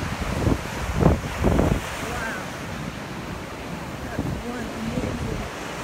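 Ocean surf rolling in at a beach during an open-water swim event, a broad steady wash of waves with a couple of louder crashes early on, mixed with wind buffeting the microphone.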